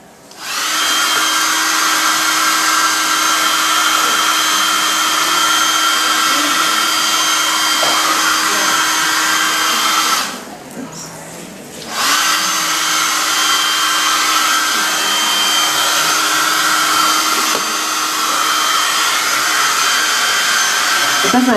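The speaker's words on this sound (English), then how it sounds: "And so I'm going to blow it dry a little bit." A hair dryer blows a mixed-media cat collage dry, running as a steady, loud, close whoosh for about twenty seconds with one short dip where the airflow changes, with no talking.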